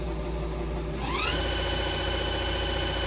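A CNC Swiss lathe's main spindle, a Ganesh Cyclone 32-N, whirs steadily and spins up to 1,000 rpm, its whine rising in pitch before settling into a loud, constant machine hum.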